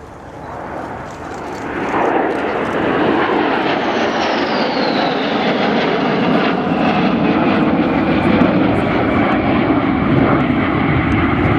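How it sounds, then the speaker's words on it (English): A pair of swing-wing Sukhoi Su-22 jets arrive for a flypast at the Royal International Air Tattoo airshow, a loud roaring jet wash swelling and holding steady with a descending whine as they pass. "the arrival for the first pass of the two Su-22s"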